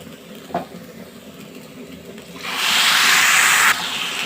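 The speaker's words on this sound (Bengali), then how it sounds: "আমি এখানে যতটুকু চাল নিয়েছি ঠিক তার 2 গুণ আমি পানি দিয়ে দিব" After a quiet stretch with a faint clink, water is poured into a cooking pot of rice for chicken pulao, a steady rushing hiss that starts abruptly and holds for over a second.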